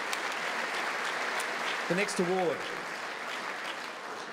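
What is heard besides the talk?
audience applause at presentation night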